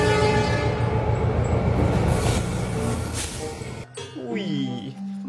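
A CC206 diesel locomotive in a train simulator game rumbles along with steady wheel and engine noise, then cuts to a different scene with a tonal sweep, alone and loud.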